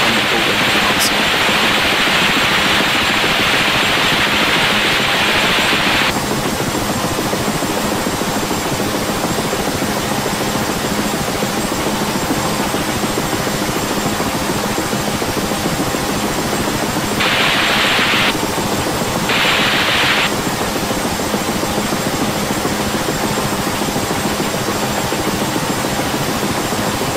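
A Huey helicopter's turbine engine runs up during startup in the DCS flight simulator, a loud, continuous roaring whine that holds steady throughout, broken by a few brief bursts of brighter hiss.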